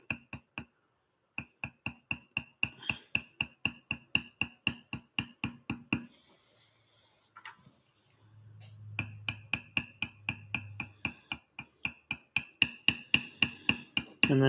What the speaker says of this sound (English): Now I'm going to bevel down inside of his lip lightly because those teeth are in there.